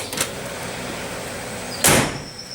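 Land Rover door being handled and moved on its skewed hinges, with a faint knock near the start and one loud, sharp clunk about two seconds in, heard close up and without any talk.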